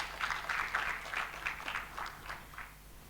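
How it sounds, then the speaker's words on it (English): An audience at a summit session on zero waste and net zero manufacturing claps in a dense, steady round of applause that gradually thins out, heard from a distance in a large room. "Another round of applause, please."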